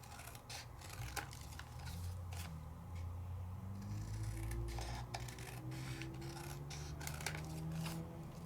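Scissors snip into yellow card stock in a series of short, close cuts spread irregularly over a low background hum, with no talking.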